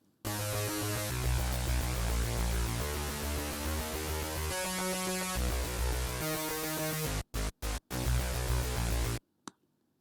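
Thick, distorted synth layers play a sustained chordal part for about nine seconds, then cut out in a few abrupt stutters before stopping.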